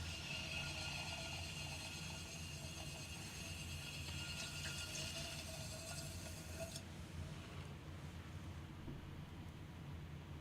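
Spinning pottery wheel head being cleaned, a continuous low mechanical whir with faint rubbing and scraping, steady throughout; the brighter hiss fades out partway.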